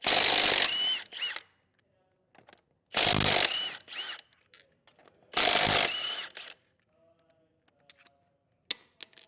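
A ratchet with a 19mm socket loosening lug nuts on a 2022 Forest River Rockwood Geo trailer wheel, three loud close bursts of rapid clicking separated by pauses filled with faint handling noises.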